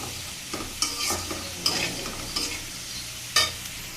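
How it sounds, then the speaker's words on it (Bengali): Potatoes and ginger fry with five-spice in a pan, a steady close sizzle broken by several sharp scraping stirs of the spatula, no voices. "আলুটাও আমার বেশ ভালো করেই ভাজা হয়ে গিয়েছে, লাল লাল করে।"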